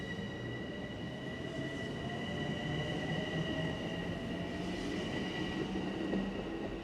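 A Long Island Rail Road train pulls out of the Flushing, Queens station with a steady, loud rumble, sustained whining tones and faint wheel screech throughout.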